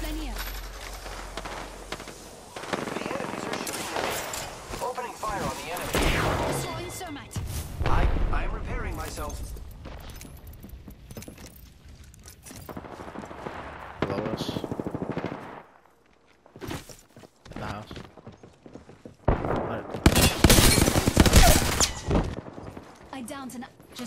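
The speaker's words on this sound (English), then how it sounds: "The enemies are shooting at me. Opening fire on the enemy." Apex Legends battle gunfire: rapid automatic bursts and shots, loud and near, come in waves with pauses and mechanical clatter, and a voice talks over parts of it.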